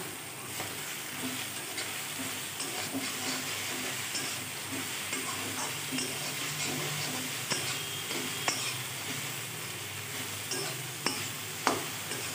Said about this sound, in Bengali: ডিমটা ভাজা হয়েছে, এখন মিশিয়ে নিব।